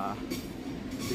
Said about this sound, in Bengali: আর আমার উপর দিয়ে এই যে ট্রেন যাচ্ছে